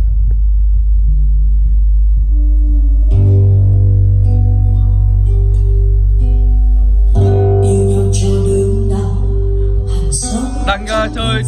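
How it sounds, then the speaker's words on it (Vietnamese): Heavy booming bass from a 40 TVK15 subwoofer driven by an LX D4150C Class D amplifier, a loud deep rumbling music track with sustained low notes and a thumping beat, close and powerful. "Đây là tiếng súp này."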